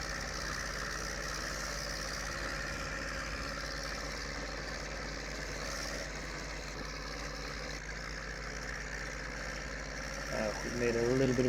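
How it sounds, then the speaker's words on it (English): A Ford tractor engine in Farming Simulator 19 drones steadily during silage mowing, a continuous mid-low rumble with slight rises in revs near the end, while someone talks over it. "This Ford really does like to make a lot of noise. All manner of gear changing and revving going on."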